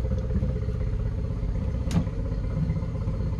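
A rough-running four-stroke outboard motor idles with a steady, low mechanical rumble, broken by a single sharp clunk partway through as it is shifted into gear.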